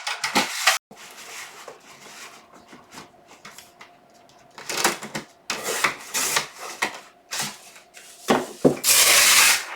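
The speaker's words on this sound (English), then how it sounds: "grab your vinyl and trimmer and cut off a piece that's 6 by 12 inches" A paper trimmer slices through a sheet of craft vinyl in a series of short scraping and rubbing strokes, close and irregular, with handling noises between cuts and a louder rough rasp at the end.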